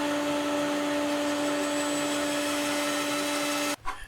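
A bandsaw cuts a wooden diagonal brace for a garden gate, a steady loud motor hum with a tonal whine and cutting noise that stops abruptly near the end, leaving a brief quieter tail.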